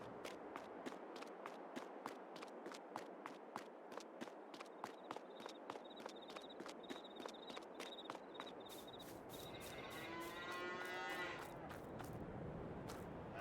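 Cattle on a winter ranch in the Farm Sim 22 video game low and moo faintly, with regular clicking footsteps throughout and a brief higher chirping sound near the end, all quiet with no speech.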